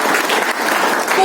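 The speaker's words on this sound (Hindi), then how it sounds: "तालियां होनी चाहिए मेरे आप" An audience at a motivational talk on women's empowerment breaks into dense, loud applause, steady clapping that fills the room for the whole moment.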